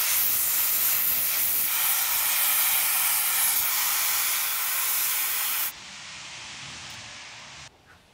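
A steady, loud aerosol hiss sprays black paint continuously for several seconds, then drops to a quieter hiss before cutting off.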